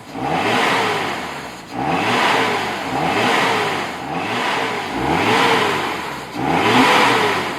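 An engine revs loudly in repeated surges, rising and falling about every second and a half, rough and throaty with no voices.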